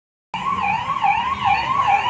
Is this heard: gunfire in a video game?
no